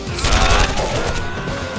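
Gunfire from the tactical war game Operation Darkness, a loud cluster of rapid shots packed into the first half, then trailing off into a noisy rumbling tail.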